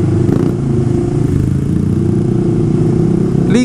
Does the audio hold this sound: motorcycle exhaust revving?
yes